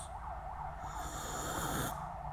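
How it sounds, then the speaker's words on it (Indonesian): An ambulance siren wails in the background, its rising and falling tone bleeding faintly into a room recording, with some breathy noise close by and no speech. "audio di sini pasti bocor karena ambulan ya kan."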